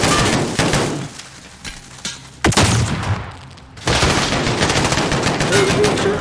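Bursts of rapid gunfire in the Call of Duty: Modern Warfare campaign, loud and close, with a sharp crack midway and a brief lull before heavy fire resumes.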